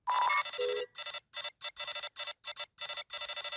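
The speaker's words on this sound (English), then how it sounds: "Oh, phone's freaking out." Ringtone from a mobile phone in a video game, loud repeated electronic chirping bursts in an irregular stuttering rhythm, close and clear with no talk.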